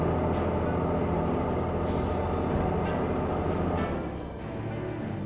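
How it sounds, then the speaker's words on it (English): Train rolling along the track in the video game Train Mechanic Simulator 2017, a continuous loud rumbling drone with clanking rail noise and faint squeals, easing off slightly near the end. "There's the train."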